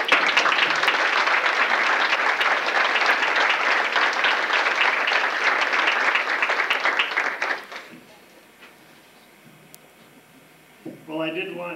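Audience applause at a 1995 volleyball banquet, dense steady clapping from a crowd lasting several seconds before fading out, followed by a speaking voice.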